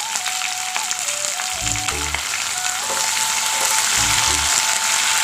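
Onions and curry leaves fry in hot oil for a dried-fish curry, giving a loud, continuous crackling sizzle with a steady tone and a couple of low thuds.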